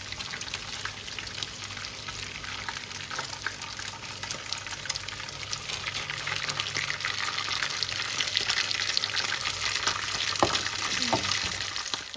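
Chicken cutlets, Kazakh-style, sizzling in hot oil in a pan, a steady close crackle and spatter with occasional louder pops, no voices.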